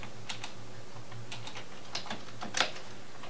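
A command is typed on a computer keyboard, a run of close, light key clicks in an uneven rhythm ending in a sharper press, with no talk.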